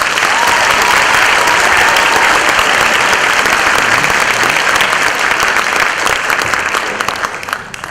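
Steady, dense applause from a large audience at a county chorus concert, loud and sustained throughout, fading slightly at the very end.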